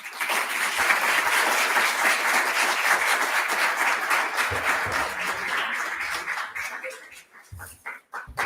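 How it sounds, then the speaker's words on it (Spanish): An audience at a lecture on Nietzsche applauds a professor. Dense, sustained clapping fills the room, then thins into scattered claps toward the end. "quiero pedir un fuerte aplauso para el profesor Alejandro Rocha"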